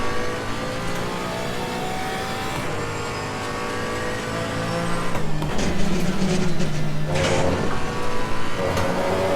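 A Porsche Cayman GT4 race car lapping in Assetto Corsa Competizione, its engine droning steadily close up, then revving harder with rising, gritty acceleration toward the end.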